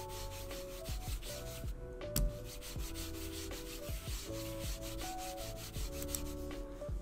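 Gaming mouse on Tiger Ice replacement feet pressed down and slid across a smooth Odin Zero Gravity mousepad, giving steady scratchy rubbing strokes in repeated back-and-forth passes, close and fairly quiet with no talk.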